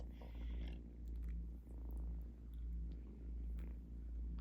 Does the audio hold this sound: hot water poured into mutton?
no